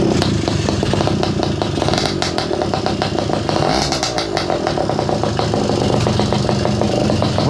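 Garelli moped's small engine running after a kickstart, a loud, close, rapid popping two-stroke clatter that holds steady throughout with no talk.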